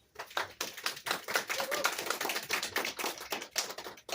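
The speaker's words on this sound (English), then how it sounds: "So how about another round of applause for Bruce?" Seminar audience members clap for a speaker, a moderately close round of individual sharp claps overlapping in a loose, uneven rhythm that runs throughout.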